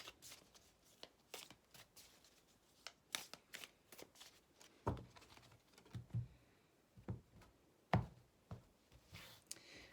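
Tarot cards being shuffled for a reading: a run of crisp, papery riffles and slaps, irregular and close, rising to sharper snaps in the second half, with no voices.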